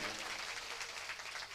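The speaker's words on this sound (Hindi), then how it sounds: "ताली बजाएं हमारे साउंड वाले भैया के लिए" Audience at a Chauhan family gathering in India claps steadily and densely throughout, a continuous wash of applause with no clear break.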